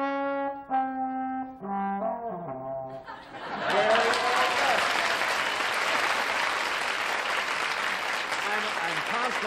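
After a short run of sung or played rising tones, a studio audience at a television game show breaks into loud, sustained applause with some laughter and voices mixed in.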